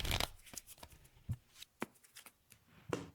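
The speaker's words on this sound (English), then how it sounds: "Shuffle this away." A deck of playing cards is riffled and shuffled during a tabletop Magic card game, giving a run of crisp papery riffles and taps in a quick uneven rhythm, close and fairly quiet, with no talking.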